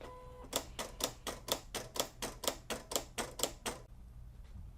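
Silhouette CAMEO cutting machine cutting holographic heat transfer vinyl, giving a fast, even series of about a dozen clicking strokes that stop abruptly, then faint machine hum.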